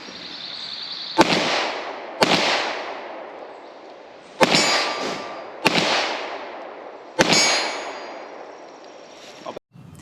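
Five sharp pistol shots from a Polish Radom Wz.33 Tokarev, fired at uneven intervals of one to two seconds, each a loud close crack with a ringing decay, with no talking.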